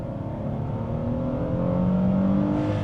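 A 2026 Hyundai Palisade XRT Pro AWD in sport mode accelerates with a steady, rising engine drone that grows louder over a few seconds, heard from inside the cabin with no talking.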